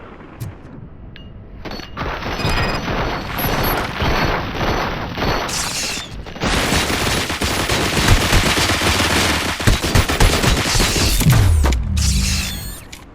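Dense rapid gunfire rattles almost without pause in the RoboCop Rogue City video game. Loud automatic bursts layer over mechanical clatter and booms and keep building in intensity across the clip, with no talking.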